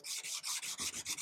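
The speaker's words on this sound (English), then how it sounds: "I'm still sanding with the 120 and I'm getting very close to being finished with this grit." Hand sanding a steel knife blade with 120-grit abrasive, a steady rhythm of raspy strokes about five per second, close and alone with no talk.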